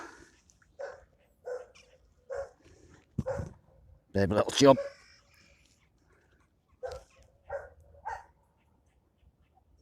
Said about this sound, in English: Loads of dogs around here. Keep barking all the time.